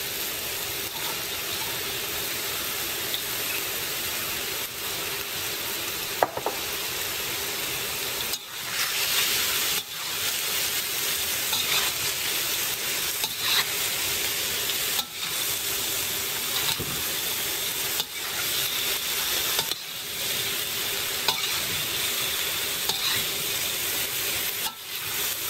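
Tofu and bean sprouts sizzle steadily in a hot pan for the whole stretch, with a spatula scraping and stirring at intervals through the continuous frying hiss.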